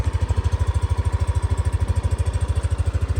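A 2024 Yamaha NMAX 155 scooter with fuel injection idles close by, a soft, even, rapid low putter pulsing steadily without pause and with no voices over it.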